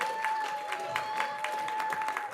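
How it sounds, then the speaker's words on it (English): An audience at a school jazz event claps for a performer, a steady patter of many hands with a faint tone running underneath. "Let's give him a round of applause,"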